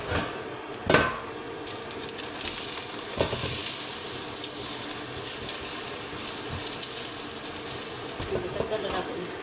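Food sizzling inside an air fryer gives a steady hiss with a fan-like hum, joined by a couple of sharp knocks and clatters near the start, all heard close up.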